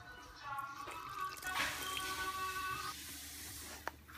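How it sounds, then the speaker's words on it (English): Hot water poured into a dough mixture for Cambodian nom gorm, a wet trickling and dripping pour with a louder splashy burst in the middle, heard close up with no talk over it. "And then we are going to mix it with hot water."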